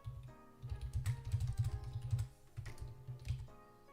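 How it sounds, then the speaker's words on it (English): Rapid, close clicking of keys on a computer keyboard in quick bursts, with a short pause before a final flurry of typing. "my keyboard sounds really loud right now."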